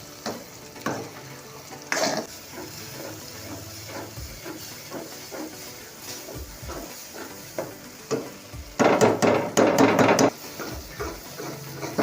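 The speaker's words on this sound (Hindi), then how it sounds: "हम अपने अंडों की बहुत अच्छे से भुनाई कर रहे हैं ताकि इनके अंदर बिल्कुल भी कच्चापन ना रहे" Eggs roast in a pan with onion and tomato for an egg bhujia, sizzling steadily under irregular spatula taps, with a busy burst of scraping and clatter partway through.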